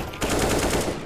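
Rapid automatic gunfire in the video game Counter-Strike: Global Offensive rattles in a quick burst of repeated shots, loud and close, with no talking.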